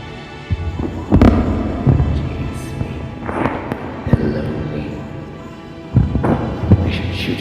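Video game explosions from dynamite and incendiaries: several booming blasts and thuds at irregular intervals, with a heavy one at the start and more near the end, over a constant mix of game noise.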